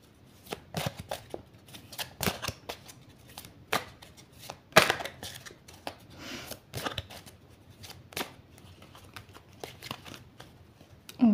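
Oracle cards being shuffled and cut by hand, a close series of irregular crisp riffles, flicks and soft slaps with quiet pauses between bursts.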